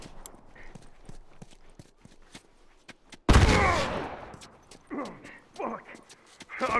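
Shotgun fire in the video game The Last of Us Remastered: one loud, close blast with a long tail, amid scattered sharp clicks and impacts, followed by shouting voices in the game.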